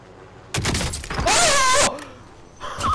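Video game sniper shot breaking an enemy's armor: a sharp blast followed by a shattering, ringing crackle with a warbling tone, then a brief thud.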